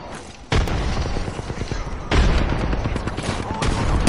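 Grenade blasts in a video-game firefight come as sudden heavy booms, one near the start and another midway, followed by rumbling gunfire and a later burst; voices can be heard faintly among the action.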